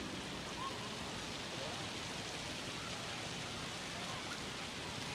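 Steady rain pours across an outdoor stadium during a graduation commencement at a ballpark in Washington, D.C., a dense, even hiss with no break, heard at a distance with no voices.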